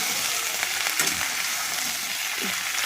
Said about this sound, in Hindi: यहाँ देखिए बैगन कितने अच्छे तरह से भुना रहा है